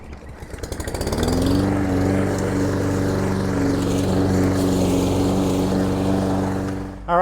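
2024 Toro Recycler Max 22-inch walk-behind lawn mower starting up with a rising pull and then running at a steady, loud, close engine drone before cutting off at the end, no talking.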